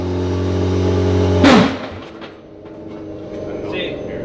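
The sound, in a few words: car revving with too much gas at race start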